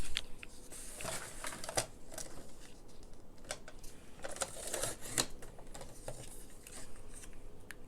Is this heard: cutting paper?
yes